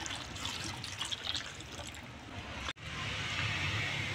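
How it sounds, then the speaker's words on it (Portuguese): A litre of water poured into a container for a homemade apple and detergent mix, heard as a steady close-up trickling stream that cuts off briefly, then resumes. "Joga 1 litro de água."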